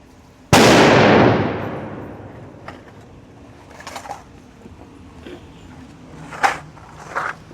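A Glock 31 Gen4 pistol fires a single sharp .357 SIG shot at a range, loud and close, with a long ringing decay. Faint bird calls and small noises follow.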